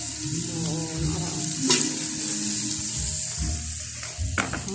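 Carrots being mixed into a hot frying pan give a constant close sizzle, with scraping and clattering stirs cutting through it and no voices.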